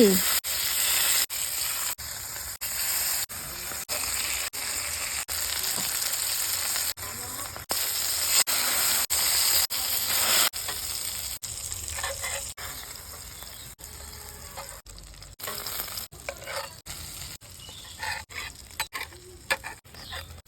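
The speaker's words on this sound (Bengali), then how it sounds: "কড়াই বসিয়ে তেল গরম করে মাছগুলো এক এক করে ভালো করে ভেজে নেব" Fish frying one by one in hot oil in a wok, a constant close sizzle with occasional pops and sharp cuts, loud and alone with no talk.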